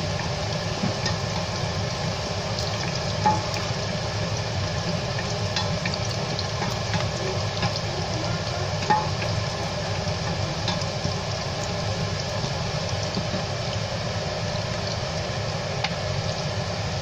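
Two dried chillies fry in hot oil in a pan while khichuri is being cooked, giving a steady, even sizzle that runs the whole time with no talking.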